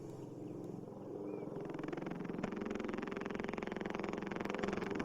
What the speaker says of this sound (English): this is the sound of a helicopter.